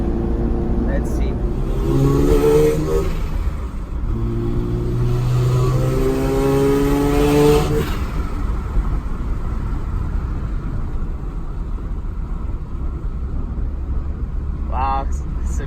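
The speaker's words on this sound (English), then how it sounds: "Wow, it's a beautiful acceleration." A Mazda RX7 accelerates hard in two loud bursts, its engine pitch climbing steeply through the revs each time. Between the pulls the exhaust drone falls back, and the sound fades to steady road noise with a brief distant rev near the end.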